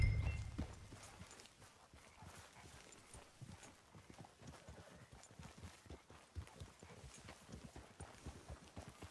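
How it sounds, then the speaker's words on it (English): Horse hooves walk at a steady clip-clop in Red Dead Redemption 2, a close, even rhythm of soft thuds repeating through the stretch, with occasional louder steps and faint game ambience behind. "I have a new horse."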